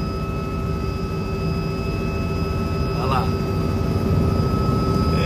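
A helicopter flying toward a waiting boat gives a steady, loud engine and rotor drone that fills the whole stretch, while a voice speaks briefly over it.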